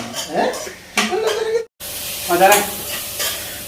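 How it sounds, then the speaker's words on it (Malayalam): Chicken masala with onions sizzles and is stirred in a pan, a steady crackling fry with scraping strokes and one brief cut-out midway. "ഗോൾഡൻ ബ്രൗൺ കളറിലേക്ക് നമ്മുടെ ചിക്കൻ്റെ മസാല വഴറ്റുന്നത് റെഡി ആയിരിക്കുകയാണ്."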